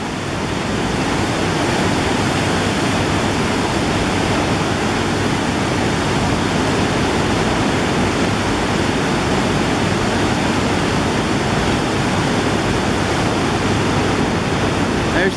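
A steady, loud rush of the rain-swollen Genesee River roars without pause below a city bridge, broad and unbroken like a cascade nearby.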